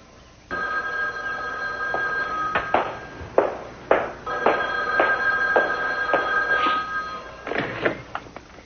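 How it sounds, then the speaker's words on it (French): A telephone rings loudly and close by in repeated electronic bursts over a steady tone, with a few sharp knocks and clicks between rings. "Je crois que vous devriez répondre au téléphone maintenant."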